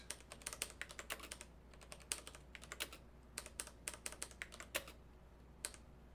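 Quiet typing on a computer keyboard, irregular clusters of crisp key clicks with short pauses, close and alone over a faint steady hum.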